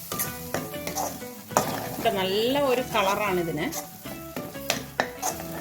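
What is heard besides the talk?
stirring chicken frying in a pan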